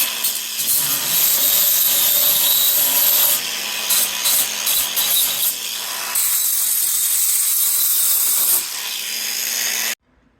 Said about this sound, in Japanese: 錆防止の塗装です。 適当なところに針金などで吊るして適当に吹きつけます。